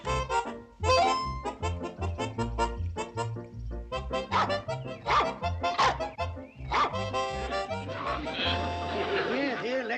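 A dog barks and yips in quick, loud, close bursts, with a voice talking at points and a whimpering tail at the end, in a 1960s sitcom scene.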